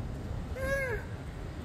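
A single short, clear cat meow rises and falls over a low background rumble, close and moderately loud.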